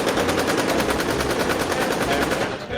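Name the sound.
gunfire in Roblox video game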